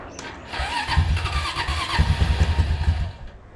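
A Honda Rancher ATV fitted with a big bore kit cranks and catches, its engine sputtering into a close, loud, uneven idle with a few rising revs before settling and fading slightly at the end.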